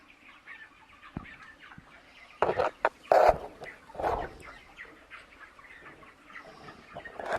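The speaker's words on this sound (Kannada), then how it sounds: "ಎಷ್ಟು ಕ್ಯೂಟಾಗಿ ಕೋಳಿ ಮರಿಗಳಿದಾವೆ ಅಲ್ವಾ?" Chickens and chicks on a poultry farm clucking and cheeping in scattered bursts, several loud close calls in the middle over a quieter background of peeps and rustling.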